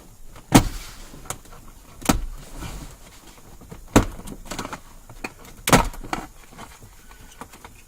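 Toyota Tacoma door pin switch being pressed and released by hand inside the cab, giving four sharp, separate clicks spaced about one to two seconds apart, with faint rustling between them and no talk.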